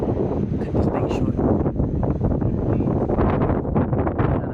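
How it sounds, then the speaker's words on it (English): Strong wind gusting outdoors at night in New Orleans, buffeting the microphone with a loud, continuous rumbling roar and rustling bursts that never let up. "It's windy out here."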